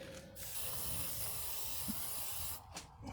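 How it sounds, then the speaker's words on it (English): A steady silicone aerosol spray hisses continuously for a few seconds, close by, during water pump installation, then cuts off with a couple of short bursts near the end. "little bit of silicone spray."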